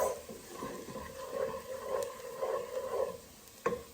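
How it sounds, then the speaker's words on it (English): Coriander seeds sizzle in a pan with cooked onion during dal makhani preparation, a steady moderate crackle with stirring scrapes and a sharp clink near the end, no voices. "Now I will add some coriander seeds. I just cook them few seconds"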